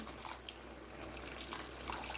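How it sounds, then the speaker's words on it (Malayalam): A little water poured into a pot of Punjabi mutton masala, a soft steady splashing and trickle that swells slightly toward the end, with no talking. "ഞാനൊരു ലേശം കൂടി വെള്ളം കൊടുക്കുവാണേ"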